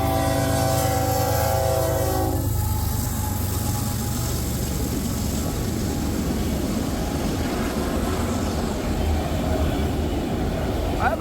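BNSF freight locomotives pass close by on a rainy day, opening with a loud horn-like tonal blast and giving way to a heavy, continuous rumbling roar of the train rolling past.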